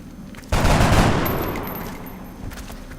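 Soldiers fire weapons in the XCOM video game, with a sudden loud burst of gunfire that booms and decays into a fading rumble over a couple of seconds.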